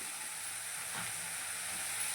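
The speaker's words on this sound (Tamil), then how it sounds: "இதை வந்து நல்லா கிண்டி விட்டுக்கோங்க" Bitter gourd and onion fry in a pan, giving a faint, even hiss with one soft stirring scrape near the middle.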